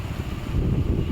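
Strong wind buffeting an OPPO K10 5G smartphone microphone, a steady, loud low rumble that fills the whole moment.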